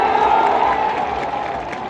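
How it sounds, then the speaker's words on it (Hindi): A crowd at an outdoor political rally claps steadily in a dense, continuous wash of applause, fairly loud and even throughout with no speech over it. "इसके लिए जोरदार ताली बजाओ सब लोग।"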